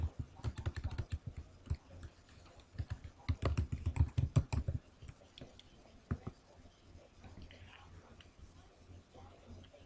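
Computer keyboard typing comes in quick, close clusters of clicking keystrokes, with pauses in between and faint room noise, while a voice talks quietly now and then.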